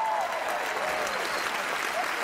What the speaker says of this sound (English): A round of applause for Pat Heffernan there